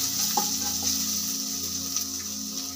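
Ginger paste being stirred into a sizzling masala in a pan for paneer butter masala, a steady close frying hiss with soft scraping stir strokes and no talk.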